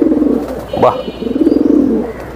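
A male pigeon coos close by, with two rolling, throaty coos broken by a brief sharper call, and a voice briefly exclaims at the start.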